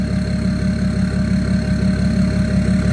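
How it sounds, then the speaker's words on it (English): A BMW X5 diesel idles close by, its steady rhythmic engine chug joined by a constant high turbo whine spooling the whole time, loud and unbroken with no talk. "you hear it's just like spooling the whole time"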